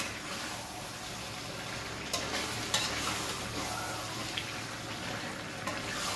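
Curry leaf chicken fries in a pan, giving a steady loud sizzle throughout. A few sharp scrapes and clinks come through as it is stirred, and no one speaks.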